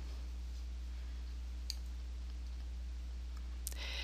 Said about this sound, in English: click on our test gallery